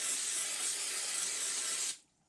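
Cooking spray hisses steadily onto fish on an air fryer rack, one continuous close burst lasting about two seconds before cutting off abruptly into near silence.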